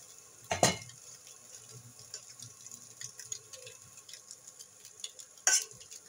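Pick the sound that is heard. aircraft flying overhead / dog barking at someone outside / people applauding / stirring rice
stirring rice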